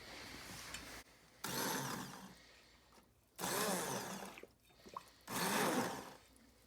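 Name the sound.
immersion blender blending soup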